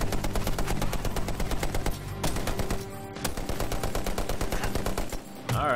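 Rapid, continuous machine-gun fire in the video game Medal of Honor: Warfighter, loud and dense with a brief lull midway, then resuming at full intensity.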